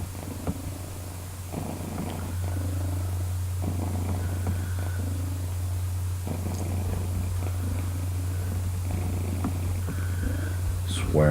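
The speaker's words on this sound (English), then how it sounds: "Mama has spoiled this cat." A cat purring close and loud, steady rhythmic rumbling pulses repeating over a low constant hum, with occasional soft talking nearby.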